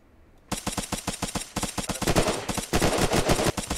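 Rapid automatic gunfire in a video game base raid, loud bursts of evenly spaced shots that start abruptly and grow denser toward the end, with no talk.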